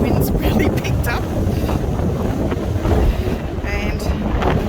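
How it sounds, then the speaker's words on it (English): Strong wind sweeps across a hidden mountain lookout in the Blue Mountains, buffeting the microphone with loud, continuous gusty rumble and fluttering bursts throughout. "The wind's really picked up."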